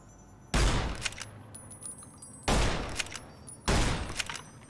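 Three loud, widely spaced gunshots ring out in the video game Fallout New Vegas, each a sharp blast with a lingering echoing tail, separated by quiet ambience.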